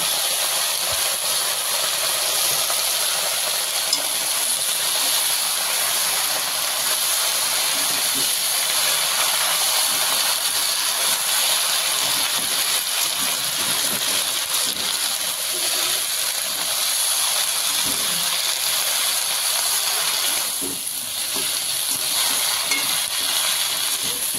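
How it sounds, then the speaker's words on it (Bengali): Fenugreek greens and green chilies frying in hot oil give a dense, steady sizzling hiss that continues evenly throughout, close and loud, with faint crackles and no voices. "শাকটা দিয়ে দিল। লঙ্কাগুলো একটু ফাটে।"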